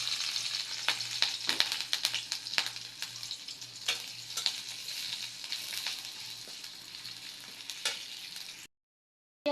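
Onion, green chili and cumin frying in a small amount of oil, a constant close sizzle dotted with sharp ticks and scrapes of stirring, ending abruptly in silence.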